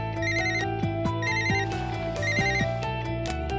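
A telephone ringtone plays a repeating electronic melody in bursts, clear and close, with no voices over it.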